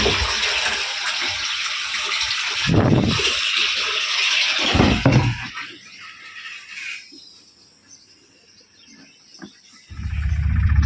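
Water gushes loudly into a jar for several seconds, then the rush cuts off, leaving quieter trickling before the flow surges again.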